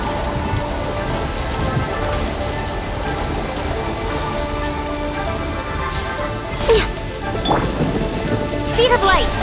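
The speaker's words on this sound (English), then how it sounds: "Thunder and lightning can be quite frightening" A thunderstorm in the video game Genshin Impact, with steady dense rain and a continuous low rumble of thunder, a few brighter crackles late on, and faint voices underneath.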